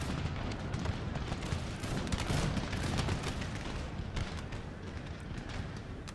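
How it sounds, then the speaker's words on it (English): Musket volleys crackle in Empire Total War: Warpath during a battle with colonial light cavalry, a dense, continuous roar of overlapping gunfire and booms that fills the whole stretch without pause. "Muskets finally firing once again."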